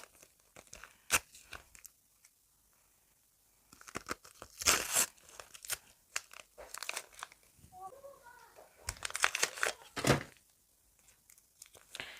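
Close, crackly crinkling and tearing of a paper packet in uneven bursts, with quiet pauses and a brief voice partway through.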